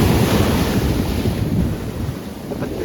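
Ocean waves surge and break at Gopit beach on the southern Java coast near Malang, under a steady rush of wind buffeting the microphone. The surf is loud and close, with a continuous roar that eases slightly toward the end.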